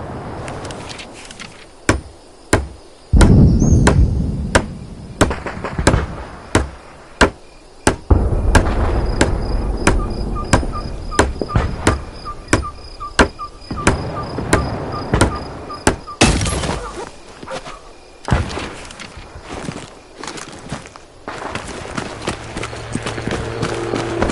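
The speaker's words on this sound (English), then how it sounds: "use the hammer to build it" Repeated hammer blows building up defences in the Vietnam-era shooter Hell Let Loose: Vietnam, a steady run of sharp knocks over rumbling jungle battle ambience and distant gunfire, loud and close throughout.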